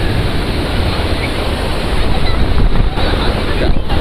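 Water gushes and splashes steadily while a bike is washed outdoors. The continuous rushing wash is loud and close, roughened by wind buffeting on the microphone and swelling slightly partway through.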